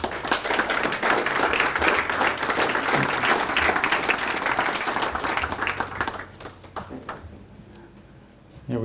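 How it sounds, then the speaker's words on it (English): Banquet audience at a Moorhead Legion event breaks into loud, sustained applause of many hands clapping together, fading over the last few seconds toward quiet. "let's give a nice round of applause to Swanee."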